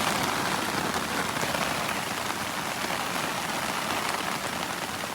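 Heavy rain pelting down steadily on a riverside stealth campsite during a night storm, a dense, loud, continuous hiss with no break.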